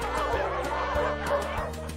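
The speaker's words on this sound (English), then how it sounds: "Or maybe oodles and oodles of dancing purple poodles?" Cartoon poodles yap and bark in quick, rhythmic bursts over a lively children's song accompaniment, from the animated show Higglytown Heroes.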